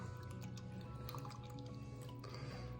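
New coral being rinsed in water, with close, soft drips and small splashes over a steady low aquarium hum, no talking.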